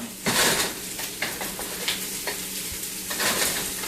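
Onions stir-fried in a wok over high heat give a loud, continuous sizzle, with bursts of scraping and tossing that swell every second or so, close up and without speech.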